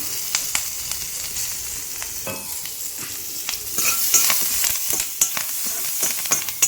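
Curry leaves sizzle steadily in hot oil in an appam pan while tempering a tapioca curry, with sharp scrapes and taps of stirring breaking through the frying hiss.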